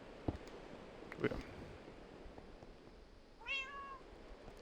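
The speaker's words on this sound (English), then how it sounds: "Oh, one of my cats is here." A pet cat lets out a single clear meow near the end, preceded by a few faint clicks and taps in an otherwise quiet room.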